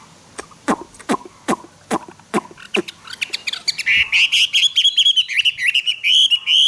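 Chinese hwamei songbird singing loud and close, a run of sharp separate chirps giving way to a fast continuous warbling phrase, with no voices.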